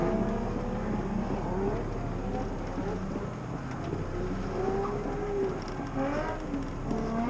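A drift car with a very low idle creeps away in first gear, its engine a steady low drone with a faint rising note, heard from close by.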